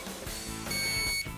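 A quiz show contestant's buzzer gives a short electronic tone, a bright steady beep that sounds once, close and clear, against a brief busy studio background.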